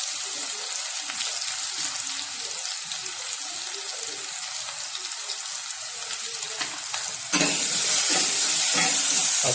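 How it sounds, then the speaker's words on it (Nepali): Stinging nettle sizzles and fries in a pan with onion, garlic and tomato, a steady loud hiss with stirring scrapes that grows louder and brighter near the end, no talking. "अब यसरी सिस्नो भुट्नको लागि अथवा पकाउनको लागि यहाँ तयार हुँदैछ।"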